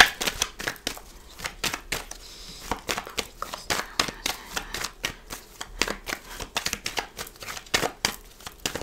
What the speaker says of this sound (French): j'ai complètement oublié de faire la coupe, donc je recommence